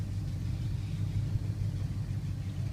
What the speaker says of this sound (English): You can see I just put it in gear. We're driving out of here.